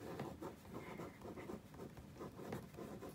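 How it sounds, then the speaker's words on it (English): A pen scratches across paper, close and quiet, in steady repeated strokes and loops as an email address is written out by hand in large letters, with no voices. "I'm going to write my email real big."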